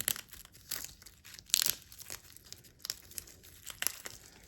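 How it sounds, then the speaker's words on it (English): Close, crisp crinkling of cellophane being scrunched in bursts, with sharp crackles rising and fading over several seconds. "you are gonna take your cellophane bag when it's done, and you're just going to crumple."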